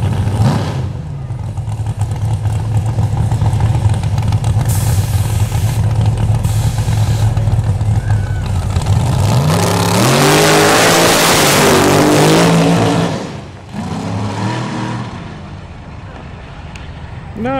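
A race car at St Thomas Raceway Park roars loudly at high revs for several seconds, then shifts and fades with tire squeal near the end as people talk faintly nearby.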